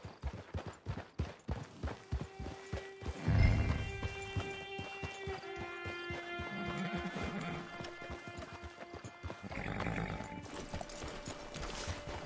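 Steady clip-clop of horse hooves at a walking pace in the video game Red Dead Online, fairly close, with a brief snort or whinny partway through and a soft musical backdrop.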